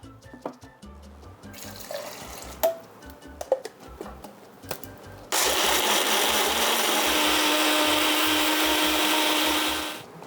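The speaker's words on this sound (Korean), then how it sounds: "바로 믹서기에 넣습니다." A few scattered clicks and small knocks, then a blender starts up and whirs loudly and steadily for about five seconds blending pumpkin and water before winding down.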